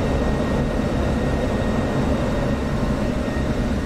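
Steady droning airplane engine roar in the flight simulator DCS, constant and broadband with no pauses, filling the whole stretch without any voices.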